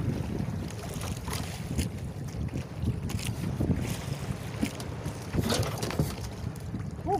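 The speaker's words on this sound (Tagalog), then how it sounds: "subukan natin ng pandar yung ating makina" Engine of a small fishing boat running at sea during a skipjack tuna run, a continuous low drone mixed with buffeting wind noise and splashing water throughout.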